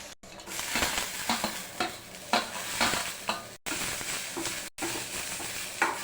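Mustard seeds, curry leaves, cumin, crushed garlic and onion frying in a little oil, with a steady sizzle broken by bursts of scraping and stirring against the pan, close up and without talk.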